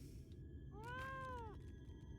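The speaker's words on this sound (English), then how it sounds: "The fat cat sounds like Miso." A single fat cat gives one drawn-out meow in Final Fantasy XIV: Shadowbringers, a clear rising and falling cry lasting under a second over a low steady ambient hum.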